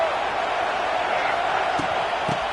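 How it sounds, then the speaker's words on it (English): A stadium crowd roars in the NCAA 26 college football video game, a steady, diffuse wash of noise at moderate level with a couple of faint thumps near the end. "This crowd trying to make life miserable for this offense."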